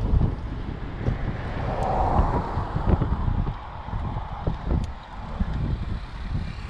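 Strong wind in Tagaytay, Cavite buffets the microphone in heavy, rumbling gusts that rise and fall without letup.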